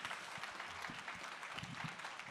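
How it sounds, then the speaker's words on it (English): Audience at an opening session applauding, a dense steady wash of clapping from a large crowd at a moderate distance, fairly quiet overall. "Just another round of applause for Rabbi Brous."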